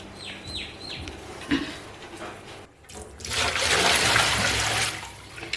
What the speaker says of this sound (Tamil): இப்போ கழுவிட்டு தண்ணி பிடிச்சிடலாம்